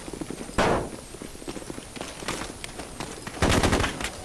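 Gunfire in the tactical squad video game Full Spectrum Warrior: loud rifle bursts open around the half-second mark, scattered shots follow, and a heavier burst of automatic fire arrives near the end.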